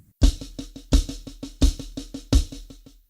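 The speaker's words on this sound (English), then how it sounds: "I just placed my kick on every accent" Drummer plays a single paradiddle with a kick drum landing on each accent: a steady run of rapid strokes where every accented hit carries a deep thump, four accents in all, close and unaccompanied.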